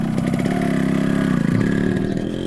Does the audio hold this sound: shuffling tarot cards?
no